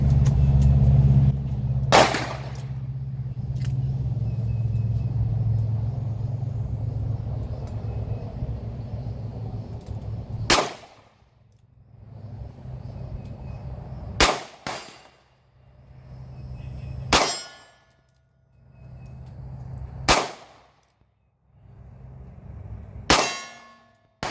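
A handgun fired single action at an outdoor gun range in Umatilla, five sharp loud shots spaced several seconds apart, each with a short ringing decay, over a low rumble of background noise early on.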